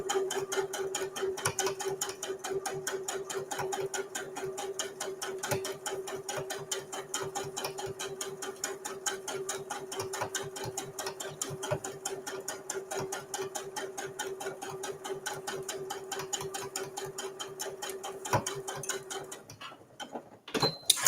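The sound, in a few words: sewing machine stitching near the fold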